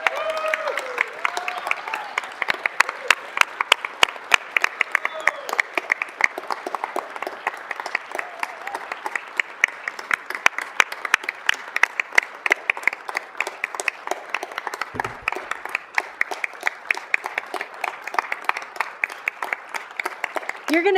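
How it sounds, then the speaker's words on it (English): A city council chamber audience gives a long, sustained round of applause for the retiring city clerk, dense clapping holding steady for about twenty seconds with a few louder individual claps near the front. "please join me in giving a thunderous round of applause to our incredible city clerk, Holly Walcott."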